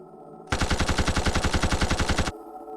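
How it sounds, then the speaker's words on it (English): A repeater arm cannon in the Dororo action game fires one loud, rapid burst of roughly two seconds, evenly spaced shots rattling in quick succession. "I call it the repeater arm cannon."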